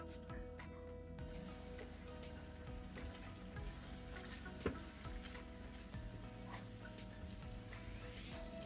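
Food sizzles softly in a pan on low heat, a faint, continuous frying crackle with an occasional stir, quiet and steady throughout.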